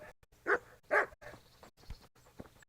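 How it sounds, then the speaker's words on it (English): A dog barks in the medieval video game Kingdom Come: Deliverance, two loud close barks followed by a few fainter yips and whimpers against quiet game ambience. "Fucking dog slowed me down."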